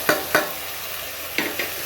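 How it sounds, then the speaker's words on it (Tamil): Chopped tomatoes sautéed in a pan for mutton kurma, with a few sharp stirring scrapes and soft sizzling bursts, two early and two late, over a low steady cooking hiss. "போட்டு நல்லா வதக்கி விட்டுக்கலாம்"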